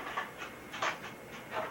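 Close panting from a dog at home, rapid breathy puffs in an uneven rhythm, with a few louder bursts standing out over quiet room noise.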